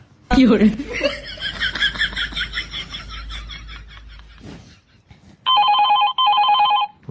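Within a Gujarati village comedy sketch, a telephone rings in two loud, steady electronic bursts near the end, following a stretch of lively talking and chuckling from several people that fades before the ringing.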